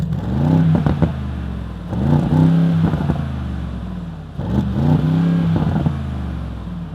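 A Mercedes-AMG G63's V8 bi-turbo engine, rev-limited to 4,000 rpm, blips three times in a row, each a deep, throaty, aggressive rise and fall over a low idle, heard up close and alone.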